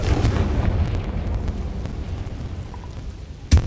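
Confringo fire spell in the Hogwarts Legacy-style game, a dense rumbling blast that rolls on for a few seconds before a sharp second impact near the end, loud and close.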